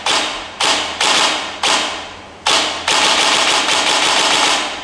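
G&G SSG-1 airsoft rifle fired with the trigger pulled by the middle finger, giving about six loud, close shots in an uneven rhythm, each a sharp thump with a short decay, and no voices.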